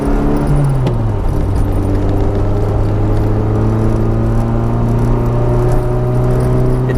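A 33-year-old Eagle Talon with a new turbo pulls in second gear, its engine note a loud, steady drone with a rising pitch and no talk over it.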